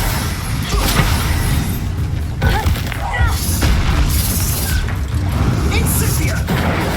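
A spell-cast explosion booms in the Hogwarts Legacy video game, set against a dense rumbling game soundscape with a few sharp bursts, and a voice speaks over it.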